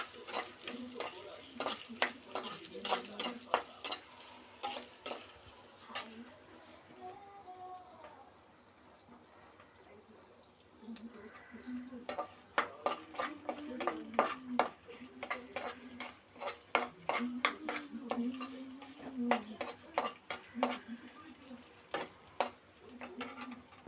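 Turmeric and other ingredients are stirred and fried in a pan before gongura leaves go in, with steady ticking scrapes and a soft sizzle. They pause briefly midway, then resume as rapid clicking strokes, and a voice speaks over parts of it.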